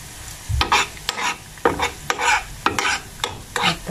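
Biko made with ube sweet potato being stirred in a pan of plentiful coconut oil: rhythmic, fairly loud scraping strokes about every half second over a soft frying sizzle.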